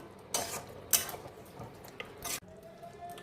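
Spoon stirring a Kolkata-style chicken biryani mixture with potatoes and biryani masala in a pot, giving a few scraping, clattering strokes against the metal between quieter moments, close and unaccompanied by talk.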